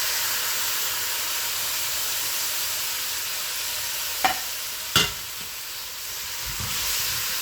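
Tomatoes go into a sizzling tagine stew pan, giving a steady close hiss of frying with two sharp clinks of utensil against the pan near the end.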